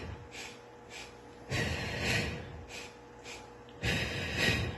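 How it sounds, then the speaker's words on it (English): Heavy breathing during a mat exercise, with rhythmic breaths in and out in a repeating pattern of short and longer pulls, close and fairly soft, with no one talking. "Inhale, inhale, exhale, exhale."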